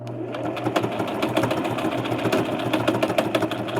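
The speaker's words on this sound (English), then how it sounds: "that's the bobbin that's banging around" A sewing machine running steadily with a low hum and a rapid, irregular knocking rattle from a loose bobbin banging around inside, close up.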